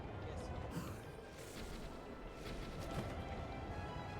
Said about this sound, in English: One last cannon.